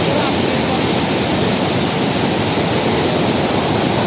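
Floodwater rushing through the Koshi barrage during heavy monsoon rain, a loud, steady, dense roar of torrential water lasting throughout without a break.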